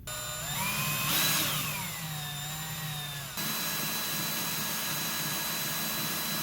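A power drill whines loudly, its pitch rising and falling as it bites, then settles into a steady high hum that keeps running.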